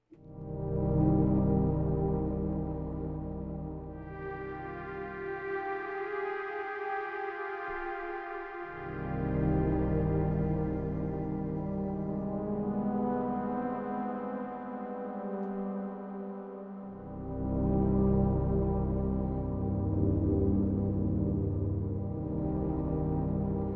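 Time Seeker preset on the Quantum synth for Kontakt, a rich sustained pad with bright layered harmonics and a deep low bass that drops out and returns in long phrases, heard alone throughout.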